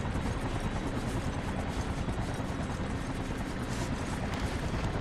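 A helicopter in the video game Infamous, its rotor and engine roaring as a loud, steady, close wash of noise with no break and no voices.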